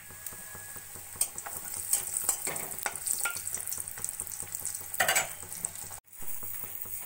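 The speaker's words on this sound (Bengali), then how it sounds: "এবার ওই তেলের মধ্যে কটা বড়ি ভেজে নেব।" Bori lentil dumplings frying in hot oil left from frying rui fish, a steady close sizzle broken by scraping and stirring clinks of a utensil against the pan, with no speech.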